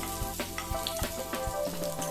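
Garlic sizzling in hot oil in a pan while cooking chicken Manchurian, a steady crackle with sharp pops and stirring scrapes, close and fairly loud.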